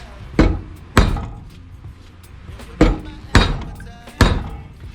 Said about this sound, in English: Just hitting the metal down.